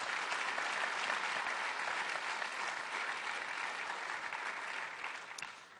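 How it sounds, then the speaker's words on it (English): Sustained, dense audience applause at a city community and protective services committee meeting in Ottawa, loud and steady for several seconds before tapering slightly at the end, with no speech over it. "Another big round of applause for Mark Cohen."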